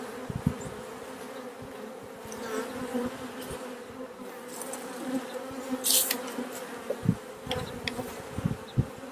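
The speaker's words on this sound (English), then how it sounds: "sorry there's so many bees, but it'll be fine" Honeybees swarm and buzz around an open hive during a spring hive inspection, a steady dense drone with individual bees zipping close past the microphone and occasional thumps of hive handling.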